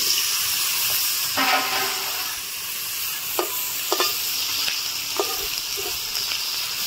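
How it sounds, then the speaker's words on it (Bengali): Tangra fish is dropped into hot mustard oil and fries with a loud, continuous sizzle, broken by a few sharp pops and spatters and the clink of stirring. "গরম তেলের মধ্যে ট্যাংরা মাছ দিয়ে দিচ্ছি।"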